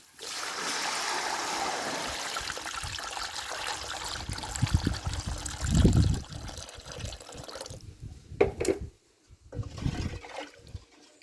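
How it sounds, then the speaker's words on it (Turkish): Hot water is poured into a pot of tomato paste fried with spices, a steady gushing stream that bubbles and splashes, then tapers into a few trickles and clatters near the end. "Üzerine sıcak su ekliyorum."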